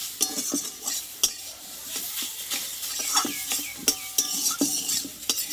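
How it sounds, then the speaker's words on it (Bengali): A ground chana dal paste with sugar is stirred in a pan, with close, irregular spoon scrapes and clinks against the metal and a faint sizzle underneath, no talking. "চিনিটা দিয়ে আরও আমি কিছুক্ষণ নাড়াচাড়া করে নেব"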